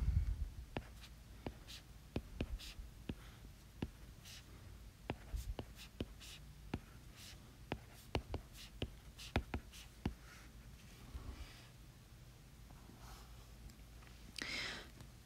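Pen or marker writing out an augmented matrix by hand, with a steady run of short, sharp ticks and scratches at an irregular rhythm, fairly close and quiet, with no talking.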